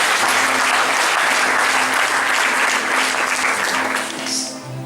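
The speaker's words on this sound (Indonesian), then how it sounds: "Tepuk tangan dulu buat Tuhan." A church congregation claps for God during a worship service, producing loud, continuous applause from a packed room, with a low steady hum underneath, easing slightly near the end.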